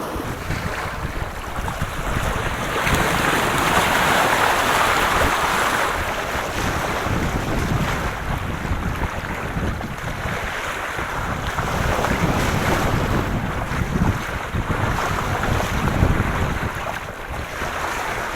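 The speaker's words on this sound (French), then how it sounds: "Je vois les vagues arriver, la houle, comme on est au portant." Waves and swell wash around a sailboat running downwind off the Île de Ré, with steady wind rush buffeting the microphone throughout and no voices.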